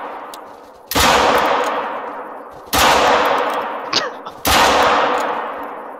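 Three loud, sharp gunshots are fired at a bison, evenly spaced about two seconds apart. Each crack rings out and decays slowly, and a fainter metallic clink falls between the second and third shots.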